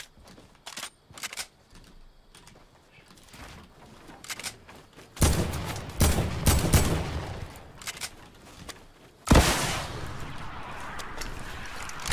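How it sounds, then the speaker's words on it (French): A rocket launcher fires in the Fortnite video game: a few sparse, faint clicks give way to two loud, broad blasts with noisy, rumbling tails, each followed by scattered sharp cracks. "Oh, le bruit du lance-roquette aussi, il est vraiment pas mal."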